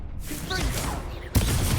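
A Confringo explosive spell is cast during a duel in the video game Hogwarts Legacy: rising whistling tones and a sharp, loud burst that flares into a sustained roar near the end.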